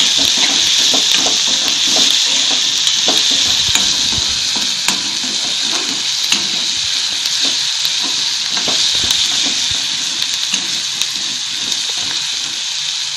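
Onion with salt sautéing in a pan for a Maharashtrian dal-onion dish, a loud continuous sizzle with scattered stirring scrapes throughout, no voices.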